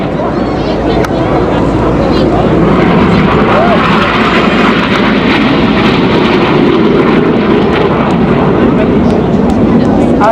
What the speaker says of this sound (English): coming in from the left-hand side over the central pier is Red 9, travelling at over 450 miles per hour